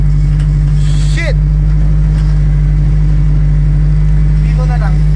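A K-swapped Honda EG hatchback with a full exhaust runs loud and close, its deep, steady engine drone filling the whole stretch while voices talk faintly underneath.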